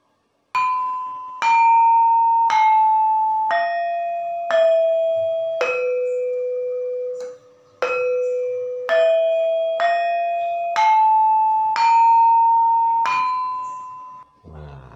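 Sundanese gamelan struck metal keys in the pelog sorog tuning, a slow descending then rising run of about a dozen clear, ringing bell-like notes, each hit sustaining into the next, played alone without talk.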